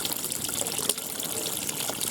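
Water runs from a pipe in a steady, continuous trickle and splash close by, an even wash of sound with no pauses and no voices.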